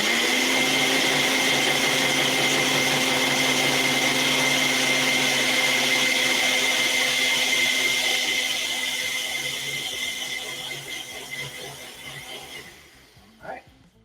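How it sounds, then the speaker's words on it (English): A Ninja blender whirs loudly at a constant high pitch for most of the clip, mixing water and vegan egg yolk powder, then winds down and stops near the end. "we have water and the vegan egg yolk powder, and we're gonna get that into our blender."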